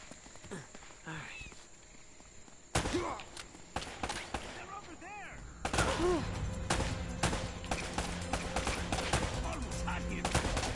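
Gunshots ring out in the Uncharted: Drake's Fortune action game, sharp loud cracks at first sparse, then coming in rapid bursts of gunfire, with a player talking over the shooting.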